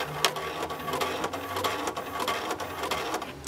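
An Eclipse credit card terminal powering up and cycling through its self-test gives off rapid mechanical whirring and clicking with regular ticks, a steady close-up printer-like churn with no talking.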